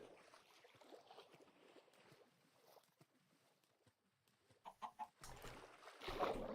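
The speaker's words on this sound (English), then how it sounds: "dragging the chicken across with the seeds is not going to work" Chickens cluck in a video game, a few short clucks rising near the end over a dull, low background hum, with no talk.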